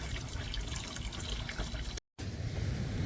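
Water running through the cooling system of an Infiniti Q45 turbo, a steady close rushing hiss broken by a brief silent gap partway through.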